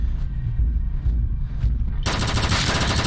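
SMGs fire in the VR game Sairento, first as rapid muffled bursts and then as a sudden loud, bright stream of automatic gunfire close up.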